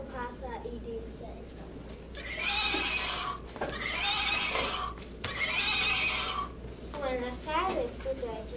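A horse whinnies in several long, loud neighs with breaks between them during a children's stage play, accompanied by some background voices.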